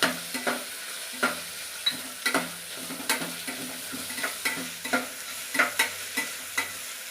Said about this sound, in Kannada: ಇವಾಗ ಕಟ್ ಮಾಡಿರ್ತಕ್ಕಂಥ ಹಸಿಮೆಣಸಿನ್ಕಾಯಿ ಹಾಕ್ತಾಯಿದ್ದೀನಿ.